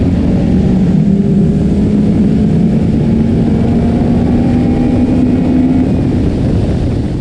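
A Toyota Caldina GT-Four and a Honda Accord Type S in a rolling race, their engines droning loudly and continuously as one rises steadily in pitch under constant road and wind roar.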